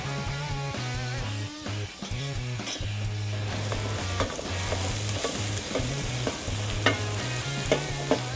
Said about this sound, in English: Now that my onions are browning, I'm gonna hit it with a clove or 2 of fresh minced garlic.